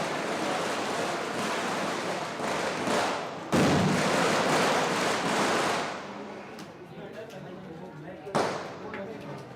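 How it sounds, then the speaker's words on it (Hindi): Firecrackers bursting during an outdoor election celebration in India, a dense loud crackling roar that swells, thins out and ends with a sharp late pop. "पीछे पटाखे बजने की आवाज आ रही है"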